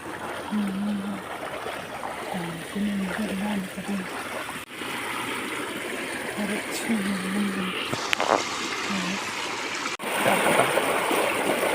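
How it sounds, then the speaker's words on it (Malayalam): Rainwater from the market area rushes steadily along a stream in a constant broadband wash, with a faint low hum drifting in and out underneath. "അങ്ങാടിയിലെ കൂടിയിട്ടാണ് വെള്ളമെല്ലാം തോട്ടിലേ പോകുന്നത്"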